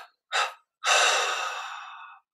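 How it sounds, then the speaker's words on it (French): A person breathes close to the microphone with no other sound: a brief audible breath, then a deep inhale flowing into a long, gradually fading exhale. "on prend une inspiration profonde. On expire en 3 fois."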